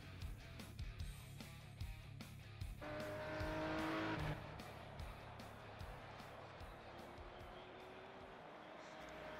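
A RUF CTR 3, a 2012 sports car with 760 horsepower, driven in the racing game Project CARS. Its engine revs and pulses in rapid repeated bursts with a shift in pitch partway through, heard faintly and at a steady level.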